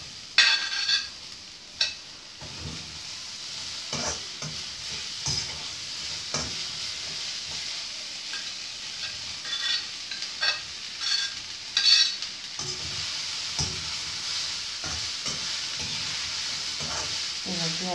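Boiled cowpeas being stirred in a pan with a little oil, giving a soft sizzle with intermittent scraping stir strokes, close and moderately loud, continuing steadily without speech.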